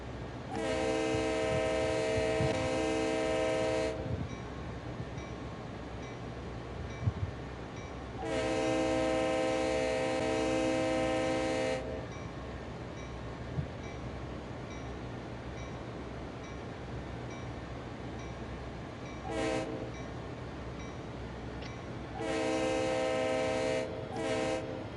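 A CSX freight train sounds its horn at a whistle board in a train simulator game, two long blasts, then a short tap and a final long blast, over a steady rumbling rail background.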